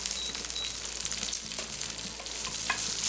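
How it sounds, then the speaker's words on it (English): Green onion hotteok, a Korean sweet pancake, fries on low heat, a dense, steady close hiss of bubbling oil with faint scraping touches throughout. "So this one I'm just going to fry in a low heat."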